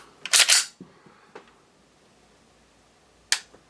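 Trigger of a Walther PDP pistol pulled through light take-up to a crisp break, heard as a few sharp, close mechanical clicks with quiet gaps between them and no talking.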